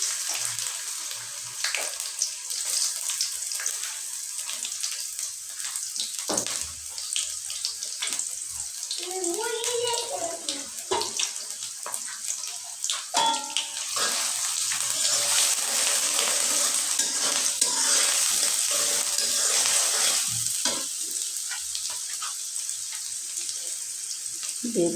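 Chopped onion goes into hot oil for a Bengali tomato-potato country chicken curry and fries with a steady close sizzle and crackle, one brief voice heard partway through.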